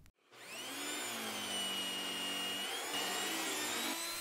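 A Hoover Windtunnel central vacuum with a newly repaired brush starts up and settles into a loud, steady whine with a low motor drone, running alone and unbroken.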